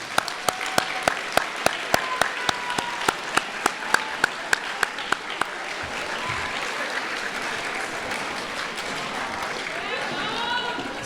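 Graduates at a 2022 high school graduation ceremony applaud their families, a steady swell of many hands clapping across a large room, with sharp rhythmic claps standing out early before blending into dense, sustained applause.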